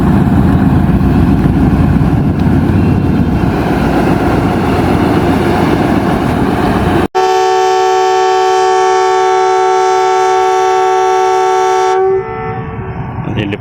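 An Indian Railways locomotive hauling a train departs, starting with a low, steady engine rumble, then a long, loud, sustained horn blast of several minutes' worth of tonal chords held for about five seconds before it cuts off.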